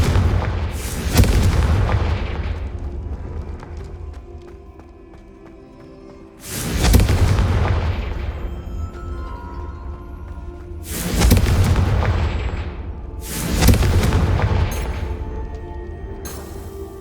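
Repeated deep booming fire-spell blasts from Hogwarts Legacy, four heavy explosions spaced a few seconds apart, each with a loud impact and a long rumbling decay, and no voices.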